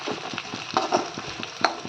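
Onions sautéing in a pan for chicken curry, a steady broadband sizzle with soft stirring scrapes and small crackling bursts, close and continuous without any voices.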